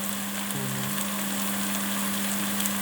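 Minced meat frying in a pan with onions, a steady close sizzle throughout with a low hum beneath, no talking.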